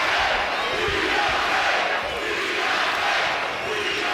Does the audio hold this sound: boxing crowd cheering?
yes